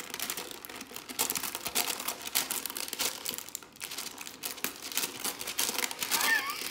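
Crinkly baking paper rips and rustles almost continuously for several seconds as it is torn on a serrated metal edge, up close, with brief pauses and no talking.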